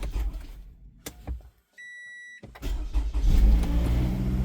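A car engine is cranked using a NOCO GB40 portable jump starter: a few short bumps and a brief electronic beep, then the engine catches and runs with a loud, steady, throbbing idle.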